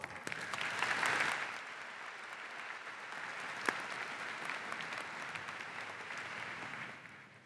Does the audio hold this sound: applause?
yes